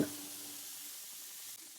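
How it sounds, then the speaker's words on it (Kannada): Steady, quiet sizzling of green chillies and garlic frying in hot oil, a soft continuous hiss with no talking. "ಹಸಿಮೆಣಸು ಸಹ ಜೊತೆಗೆ ಬೆಳ್ಳುಳ್ಳಿ ಸಹ ಚೆನ್ನಾಗಿ ಹುರಿದುಕೊಂಡು"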